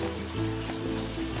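Water pours into a blender of chicken birria sauce with spices, garlic and onion, giving a steady close trickling splash that lasts through the short moment.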